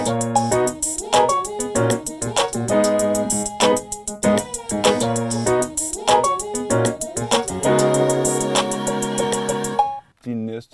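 A children's choir sings with backing instruments in a layered, chopped arrangement that cuts off abruptly near the end, with a brief word spoken.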